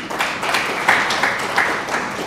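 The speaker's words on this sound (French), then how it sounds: "Je vous demande de l'applaudir." Short burst of applause for a teacher at a gathering in Mali, moderately loud mixed clapping with a few sharper individual claps standing out.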